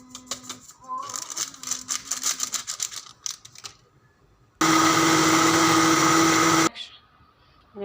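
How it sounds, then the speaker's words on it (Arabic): An electric mixer beating sugar with eggs and tank flavoring runs as a loud, steady whir for about two seconds, after clattering kitchen noises and a brief lull. "انا كده ضربت السكر مع البيض مع التانك"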